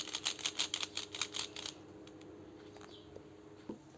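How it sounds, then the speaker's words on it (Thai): Rapid series of crisp plastic clicks from a twisting pyramid-shaped puzzle cube for about a second and a half, then quiet with a few scattered faint clicks. "ตัวรูบิกก็ ให้เสียง กรอบนะครับ"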